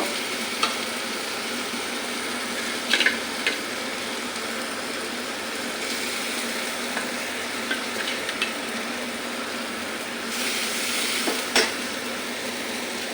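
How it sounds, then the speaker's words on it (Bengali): Singi fish goes into hot spiced oil and fries with a constant close sizzle, broken by occasional scraping stirs and light metal clinks of a spatula against the pan. "শিং মাছ তো বেশি তেল দেব না এখন মাছটি আমি দিয়ে দেব"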